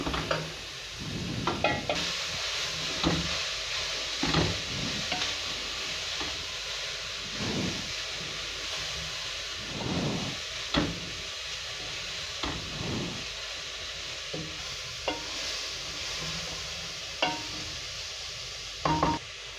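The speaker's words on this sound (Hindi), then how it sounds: "जब वेजिटेबल्स हल्की सी सौते हो जाएं" Vegetables sautéing in a pan for sweet and sour soup, a steady sizzle broken by repeated scraping strokes of stirring, close and moderately loud with no talking.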